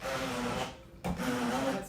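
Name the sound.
stainless steel immersion hand blender blending chickpeas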